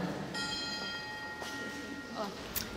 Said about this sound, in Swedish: Till klockringning, det var ju poetiskt.